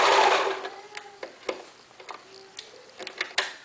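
A sewing machine stitches around the edge of a baby or toddler arm warmer. A brief whirring run is followed by soft, irregular mechanical ticks and clicks, fairly close and fairly quiet.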